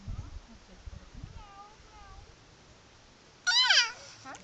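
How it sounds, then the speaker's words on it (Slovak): A kitten gives a few faint, thin mews and then one louder, drawn-out meow close by, with a little handling noise at the start. "Mačiatko robí mňau,"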